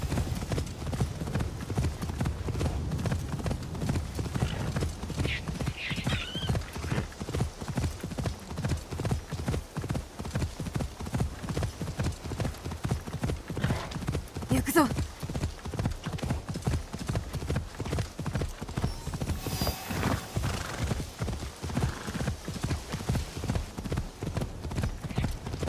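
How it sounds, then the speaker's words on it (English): Horse galloping in a video game at night on a dark road, with rapid, steady clip-clop hoofbeats running the whole stretch and an occasional whinny. A faint voice shows up now and then. "Speed horse riding."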